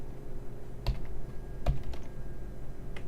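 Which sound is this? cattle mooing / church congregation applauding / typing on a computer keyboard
typing on a computer keyboard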